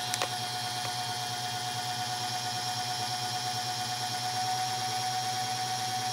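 A 5400 W Chinese wind generator spins on a test rig, giving off a steady droning hum with a clear tonal whine and a faint pulsing throb throughout, constant and close.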